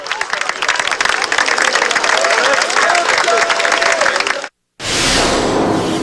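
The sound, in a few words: crowd applauding at Tour de France stage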